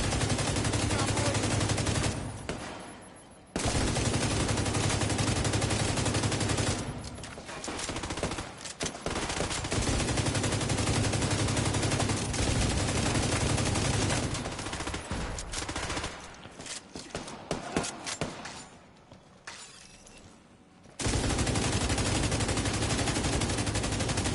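Sustained automatic gunfire from The Division 2, a shooter game, rattles loud and near in long dense bursts broken by a few short pauses, with little talk over it.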